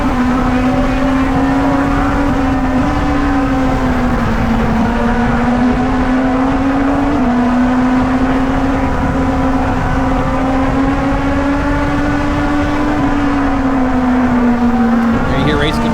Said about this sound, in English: McConaughey pulled out, getting into the chicane, got the run through NASCAR 3 and 4.